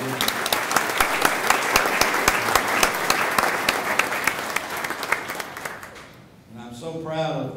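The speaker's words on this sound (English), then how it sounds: "we need to give them a round of applause" A crowd at a small-business awards ceremony applauds with dense, steady clapping for about six seconds, then it fades out and a voice begins speaking.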